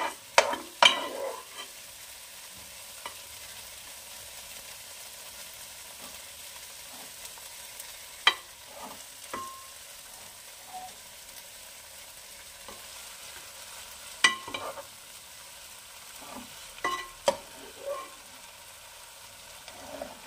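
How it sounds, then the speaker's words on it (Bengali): Cauliflower frying in spices in a pan over a very low gas flame, with a soft steady sizzle and intermittent scraping clinks of a spatula stirring to coat the florets. "ঘুরিয়ে ঘুরিয়ে নেবেন পাশের মশলাগুলো, সব জায়গায় যেন লাগে।"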